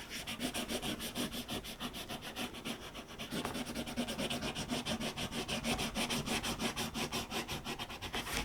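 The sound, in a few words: rubbing a Santa decal onto a DIY organizer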